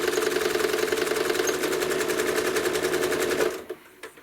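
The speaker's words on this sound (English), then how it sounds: "I'm going to press my foot pedal all the way to the ground and start quilting" Quilting on a sewing machine run steadily at a little over half speed, a loud, even, rapid needle chatter lasting several seconds before it stops abruptly, followed by a couple of soft clunks.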